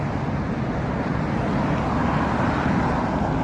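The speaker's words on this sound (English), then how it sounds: "I better watch the traffic carefully" Steady road traffic rumbling past on a street in Clinton, Iowa, heard close by from the roadside as a continuous low roar with no clear gaps between vehicles.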